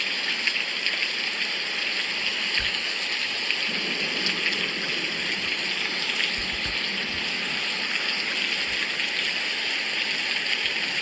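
Steady rain pours down on a very rainy day, a dense, continuous hiss of falling water with faint scattered drips, close and even throughout with no talking.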